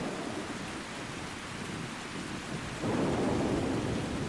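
A thunderstorm in Ark rolls on with steady rain and a low thunder rumble that swells noticeably louder partway through and stays heavy to the end.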